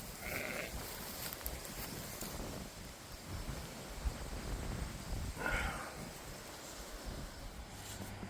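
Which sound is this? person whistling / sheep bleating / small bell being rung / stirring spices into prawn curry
sheep bleating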